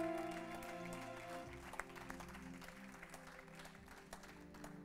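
A church congregation applauds in praise of God, a soft, steady patter of clapping heard at a distance alongside sustained musical tones.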